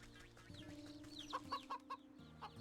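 Chickens cluck in short bursts in the video game Wytchwood, with several distinct clucks stacked over a steady game music bed, fairly close and moderately loud.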